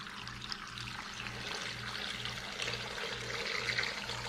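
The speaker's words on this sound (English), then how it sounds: "Then we just gotta add water." Water pours steadily into a stockpot for chicken stock, filling it toward the max line with garlic inside; a continuous close splashing rush with a low hum beneath, no talk.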